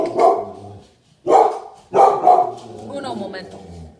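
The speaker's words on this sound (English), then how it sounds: "Did I just reward my dog for barking?" A dog outside barks three times in loud, separate bursts spaced about a second apart, then the sound trails into quieter background noise.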